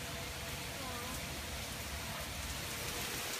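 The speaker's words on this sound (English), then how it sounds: "It is literally pouring." Heavy rain pours down in a steady, dense hiss that fills the whole moment evenly, close and constant with no breaks.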